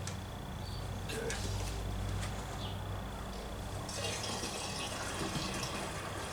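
Gallons of vinegar are poured into a container, a steady gushing fill of liquid heard throughout, fairly quiet.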